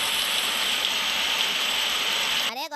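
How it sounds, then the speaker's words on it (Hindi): Sudden cartoon rain pours down in a steady, dense hiss that fills nearly the whole stretch, then cuts off abruptly near the end with a brief rising tone. "अरे यार, ये अचानक बारिश कैसे पड़ने लग गई?"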